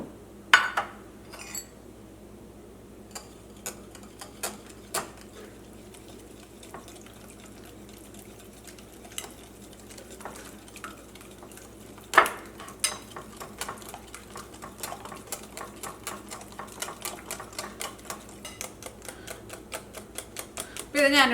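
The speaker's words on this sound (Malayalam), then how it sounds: "ഇനി ഇത് 3ഉം കൂടിയിട്ട് നന്നായിട്ടൊന്ന് ബീറ്റ് ചെയ്തിട്ട് എടുക്കുക." Sugar and eggs beaten for a pressure cooker sponge cake batter, a run of quick clicking strikes against a bowl that grow faster and denser toward the end, with a faint background hum.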